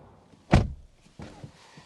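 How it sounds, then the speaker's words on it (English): Door of a 2024 Mercedes-AMG GT63 shutting from inside the cabin, one solid close thunk followed by faint softer handling sounds. "And then shutting up the door"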